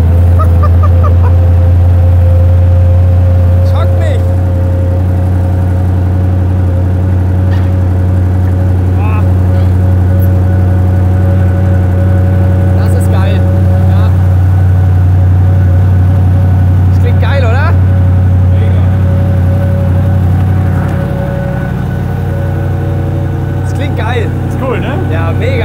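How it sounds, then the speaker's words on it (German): A Koenigsegg supercar's V8 engine rumbling through its exhaust at a German car dealership, a loud, sustained deep drone with a shift partway through and faint background noise. "Das ist richtiger V8-Sound. Das klingt auch richtig böse geil."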